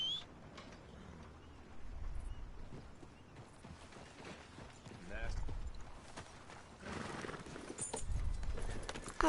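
Horse hooves clip-clop at a steady walking pace in the video game Red Dead Redemption 2, over a soft ambient bed, with a few louder low thumps and faint bird-like chirps in the background.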